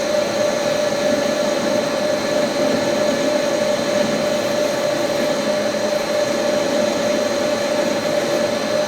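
A metal lathe cutting a chamfer on tube gives off a steady, unbroken whine with a sharp tonal ring over a broad machine hiss, holding level and loud from start to finish.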